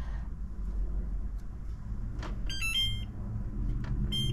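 An oven sounds a short melodic run of electronic beeps while apple pie bakes, set over a steady low kitchen hum.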